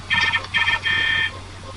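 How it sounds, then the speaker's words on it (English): A mobile phone beeps three times in a short, even pattern of electronic tones, fairly close against a low steady room hum, with no talk over it. "That's my phone."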